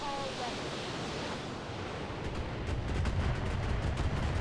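Mech weapons firing together in the game Roguetech, a dense roaring barrage of blasts and impacts that builds into louder rumbling thuds toward the end, with a faint voice early on.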